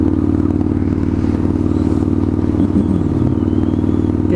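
A straight-piped motorcycle engine runs loud and close in a steady, throbbing low rumble throughout, with no clear rev changes, out on a ride in fine weather.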